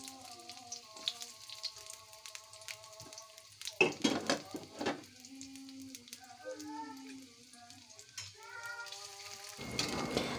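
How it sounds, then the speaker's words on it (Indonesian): Onions and garlic sauté in hot oil in a frying pan, a soft, low sizzle with occasional stirring scrapes, faint beneath light background music. "Pertama, kita panaskan penggorengan, lalu tambahkan minyak dan tumis si per bawang-bawangannya."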